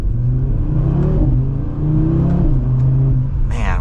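A 2024 Audi RS3 with an all-wheel drive setup, its engine still being run in, accelerates with a loud, close, rising engine drone, easing briefly before pulling again.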